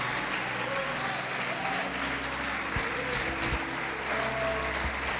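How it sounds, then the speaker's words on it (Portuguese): A church congregation applauds during a sermon, a steady wash of clapping mixed with low rumble, moderately loud and unbroken, with a few soft thumps scattered through it. "Você pode aplaudir o Senhor Jesus por isso?"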